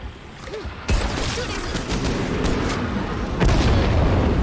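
A grenade goes off in the Heartland video game with a sharp, loud blast, followed by a rumbling, crackling tail and a second heavy boom a few seconds later.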